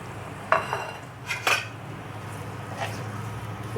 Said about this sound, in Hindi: हमने कंटिन्यू इसमें चमचा चलाना है